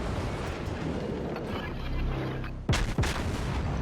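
In World of Warships, the front cannons of the battleship New Mexico fire a salvo, two heavy booms in quick succession that rise above a constant rumble of engine and sea.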